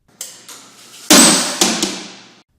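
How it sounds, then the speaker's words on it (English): A helmet dropped in a guided fall strikes a steel test anvil with sharp metallic bangs, a few smaller knocks and then a loud impact, each ringing briefly before dying away. "dropped in a guided fall onto various steel test anvils, simulating various impact surfaces"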